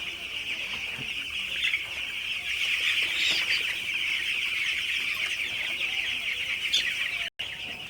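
Nine-day-old broiler chicks on a farm, up and feeding, produce a steady, dense chorus of clucking and chirping throughout, fairly loud and continuous, with no talk.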